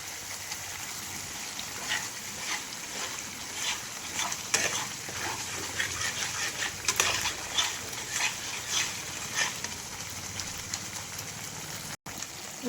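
Ground coriander and cumin fry in oil with chicken gravy, giving a steady close sizzle with repeated scraping stir strokes running throughout and no talking.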